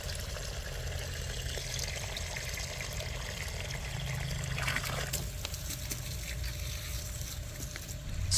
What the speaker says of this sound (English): Then top it all off with water until fully covered.